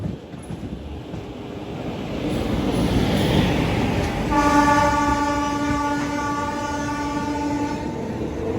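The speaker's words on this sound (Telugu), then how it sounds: "ఆ బండి ఇలా వస్తుంది, మన బండి అలా వెళ్ళిపోతుంది. వాప్ 7 లోకోమోటివ్." Trains pass each other, one hauled by a WAP-7 electric locomotive, heard from on board. A steady rumble of rolling wheels carries under a long, loud, sustained horn tone.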